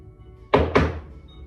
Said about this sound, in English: we're going to be knocking this tree with the combination lock pattern